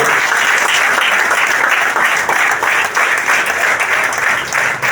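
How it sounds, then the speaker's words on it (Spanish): A church congregation applauds loudly and steadily, a dense wash of clapping that holds at full strength throughout without pause. "Den un aplauso a nuestro Dios maravilloso y eterno"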